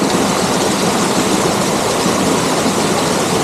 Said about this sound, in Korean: 여기가 유명한 그 지리산의 이끼폭포입니다